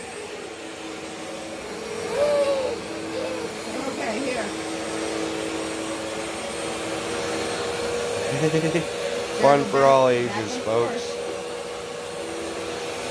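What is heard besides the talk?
Bissell CleanView Swivel Pet vacuum cleaner running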